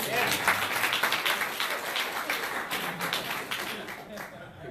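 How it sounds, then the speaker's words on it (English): Crowd applause at a Rotary club meeting, steady clapping from many hands filling the room, with some voices mixed in underneath. "Let's give her a round of applause for sharing."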